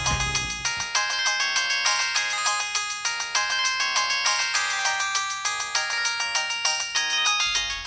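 A phone ringtone plays loudly and continuously, a bright repeating electronic melody with a steady pulsing rhythm and no voices.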